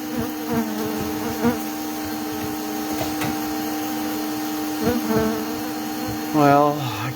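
Bees buzz steadily during removal of a gentle hive from inside a wall, a dense droning hum with louder passes as individual insects fly close, plus occasional handling knocks and a short rising whine near the end.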